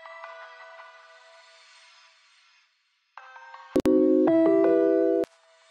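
A synthesized pluck sample with a reverb delay effect in FL Studio plays bright, ringing tones that trail off, then after a short gap returns with louder sustained, echoing notes and sharp clicks before cutting out.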